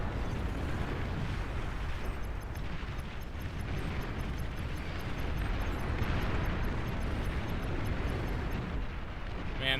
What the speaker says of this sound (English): Commander destroyed. Look at that beautiful explosion.